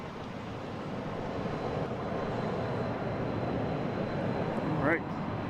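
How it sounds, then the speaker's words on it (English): A JetBlue Airbus A321neo arriving at Boston Logan International Airport from Paris gives a steady, broad jet roar at moderate distance, partly masked by wind noise. "We got a JetBlue here, so there it is. Coming in from Paris, an A321neo."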